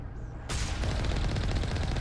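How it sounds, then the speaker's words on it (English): Rapid gunfire from turrets in the Mass Effect video game bursts in suddenly and keeps up as a dense, loud rattle of overlapping shots. "Turrets."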